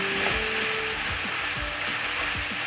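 Sautéed eggplant with egg and crushed pepper sizzling in a pan while being stirred: steady, close frying hiss with soft rhythmic scrapes of the spatula, no voices.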